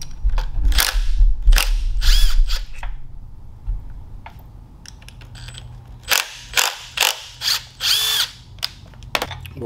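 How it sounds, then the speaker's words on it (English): A 1/4-inch socket ratchet on a 12-point socket breaks loose the connecting rod bolts of a Tillotson 212 small engine, giving bursts of close, loud clicking in two groups separated by a quieter stretch, with no talk. "We're going to take out the rod bolts. These are tightened to spec for the final machining process, so you'll need to bust those loose."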